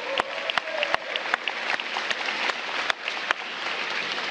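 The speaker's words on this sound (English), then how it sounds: "Give them a big round of applause." Scattered applause at a DC College Signing Day event hosted by the mayor, a moderate crowd patter punctuated by sharp, loud individual claps close by, steady for a few seconds.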